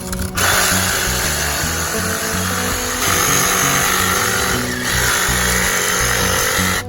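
A loud, close power tool whines continuously as it cuts through a yucca palm limb, its pitch dipping slightly as the blade works through the wood.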